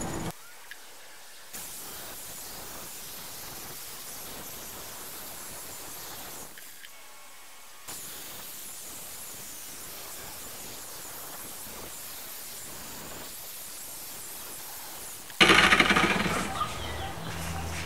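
A rotary buffer polishes Rust-Oleum paint on a tank with a steady, hissing whir, interrupted by brief pauses, then a louder, harsher burst near the end.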